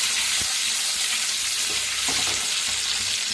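Eggs fry in a kadhai over a gas flame, a steady loud sizzle with a few faint clicks and stirring scrapes, no talking.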